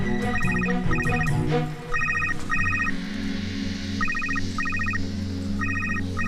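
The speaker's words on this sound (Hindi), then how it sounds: "रुको, मैं फोन लगाती हूँ।" A mobile phone rings indoors, its electronic ringtone sounding in repeated bursts of bright chiming tones over a low background hum.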